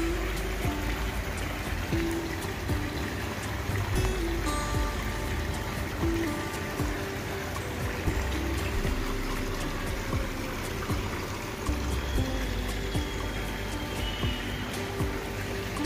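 Water running steadily as a villa swimming pool is drained and refilled, a continuous trickling, splashing flow at moderate distance with no talk over it.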